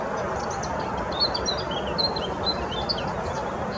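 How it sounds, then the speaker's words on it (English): Gulls, including young ones, calling along a UK greenway, a series of faint, brief high calls scattered over steady outdoor background noise. "Oh, there's some baby gulls."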